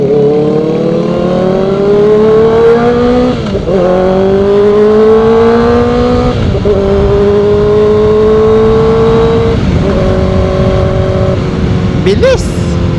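A 2025 Kawasaki ZX4RR motorcycle engine revs hard and climbs through the gears, pitch rising in long sweeps and dropping at each shift, loud and close with wind rush.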